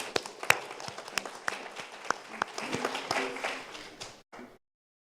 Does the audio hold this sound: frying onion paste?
no